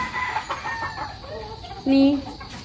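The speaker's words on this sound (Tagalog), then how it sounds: "Kini among mga manok diri nay mapangalan" Chickens cluck in short bursts, then a rooster lets out a loud, drawn-out crow nearby, with some background chatter from the flock.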